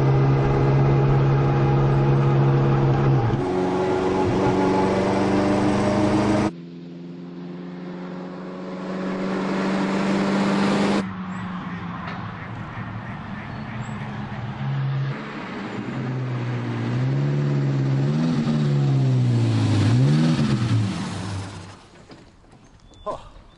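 A Maserati Tipo 26 Grand Prix race car engine drones and revs, pitch climbing and falling as it is driven, with a voice talking over parts of it.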